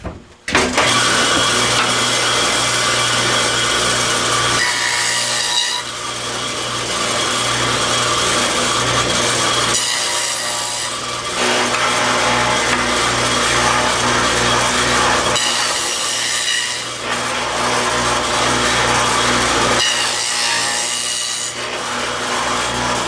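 Table saw fitted with a dado blade cutting dadoes across wooden box end boards, a loud, continuous whine and rasp running nearly the whole time, dipping briefly between passes around every five seconds, with no talk.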